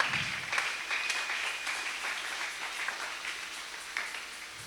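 A church congregation at a French-language worship service applauds the Lord, with a burst of many hands clapping that starts strong and then gradually thins and fades out.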